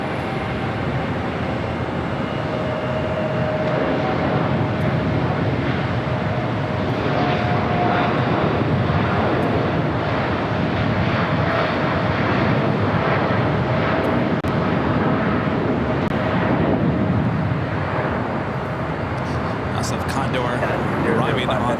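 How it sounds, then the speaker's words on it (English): A KLM Boeing 787-9 Dreamliner jet at LAX, flight 604 bound for Amsterdam, roars steadily and loudly throughout with a broad engine rumble, while a voice talks over it at times. "the KLM Dreamliner 787-9 Dreamliner, flight 604"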